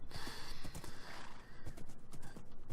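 A horse in a video game snorts and whinnies amid clopping hooves, loud and close, with a few breathy bursts and no talk over it.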